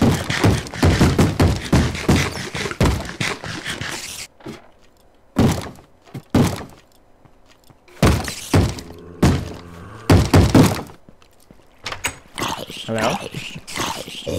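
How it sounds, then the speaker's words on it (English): Explosions in the Minecraft video game, heard as a series of loud, sharp booming bursts with short gaps between them, mixed with a person talking. "Everything's exploding around me."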